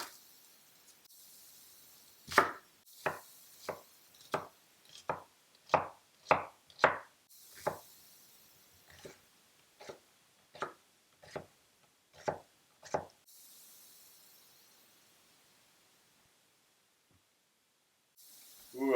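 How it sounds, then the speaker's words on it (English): A hand-forged deba knife made from a 1948 Mercury leaf spring chopping an onion on a board, a run of about fifteen crisp, evenly spaced chops, close and clear, then quiet. "Break down an onion."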